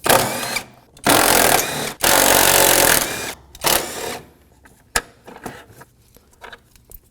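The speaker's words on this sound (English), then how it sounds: "we're gonna use a small extension and a 12mm socket. Go ahead and remove these 4 bolts." A ratchet with a 12mm socket and extension removes battery tray bolts on a 2016-2020 Kia Sorento 2.4L, giving loud, close bursts of rapid clicking in several runs, then a few sharp clicks and clanks.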